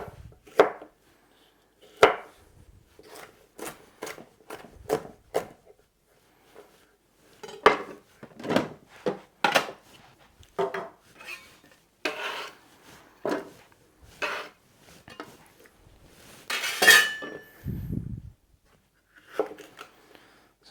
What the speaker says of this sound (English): I'm just going to cut them into little sticks, roughly all the same size.